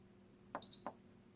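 Two short electronic beeps about a third of a second apart from an Instant Pot Duo control panel, with a thin sustained tone between them, fairly quiet against a faint hum.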